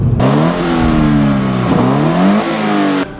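A Subaru BRZ or Scion FR-S sports car revs hard and accelerates through several gear changes, its engine note climbing, dropping at each shift and climbing again, loud and close throughout with no talk.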